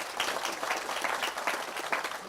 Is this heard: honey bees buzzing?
no